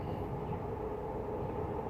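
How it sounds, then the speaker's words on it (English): A steady low rumble of a Metro Vancouver SkyTrain rolling past, even and continuous, moderately loud with no voices. "Metro Vancouver SkyTrain, the train that you're about to hear in 2 seconds"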